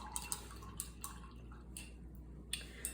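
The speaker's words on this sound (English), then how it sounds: "rinsing my brush and then working in this beard area" An acrylic paintbrush swished and tapped in a cup of rinse water makes small, close, watery clicks and drips, a few soft splashes spaced irregularly against a quiet background.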